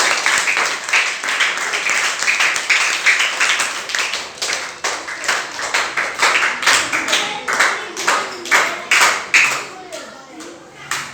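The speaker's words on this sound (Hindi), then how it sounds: "इनके लिए ताली बजाइए" A classroom of children claps in unison for a classmate, a near, rhythmic series of sharp group claps that slows into separate bursts toward the end, with young voices mixed in.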